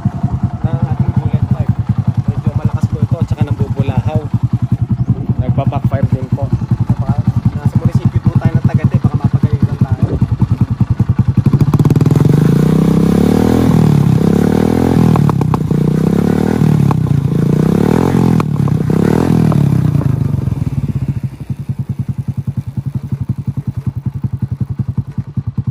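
Modified TVS XL100 moped engine running steadily with a low rumble, rising into louder revving bursts midway, then settling back to idle; the sound stays close and loud throughout.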